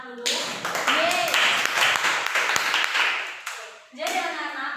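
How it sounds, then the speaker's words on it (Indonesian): A classroom of students claps together for several seconds during an Indonesian social studies lesson, a dense burst of hand claps with a brief pause and then a second round, the teacher's voice briefly heard over it. "Kita kasih tepuk tangan dulu."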